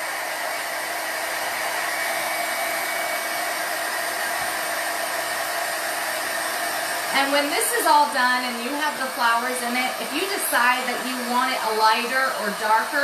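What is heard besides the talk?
heat tool blowing hot air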